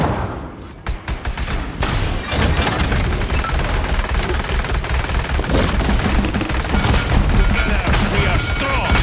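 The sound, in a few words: gunfire in the video game Paladins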